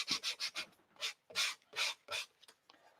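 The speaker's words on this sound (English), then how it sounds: "You want to make sure if you're sanding like I'm sanding that this paper is very dry" Dry decoupage paper being hand-sanded on a thrifted furniture piece, about a dozen quick rhythmic rubbing strokes in bursts, close and fairly quiet, with no talking.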